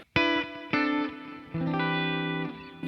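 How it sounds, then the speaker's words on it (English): Clean electric guitar tone: a few plucked chords and single notes ringing out with sustain over about three seconds, heard close and alone. "The clean tone sounds like this."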